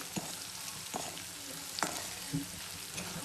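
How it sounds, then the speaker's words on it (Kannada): Salted capsicum frying in a pan for masala chitranna gives a soft, steady sizzle, broken by a few brief stirring scrapes, heard alone at low volume. "ಇನ್ನೊಂದು 2 ಮಿನಿಟ್ಸ್ ಫ್ರೈ ಆದರೆ ಸಾಕು."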